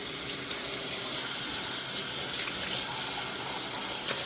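A tap runs continuously, rinsing soap off a Miltoniopsis orchid in a steady, loud gush with no break.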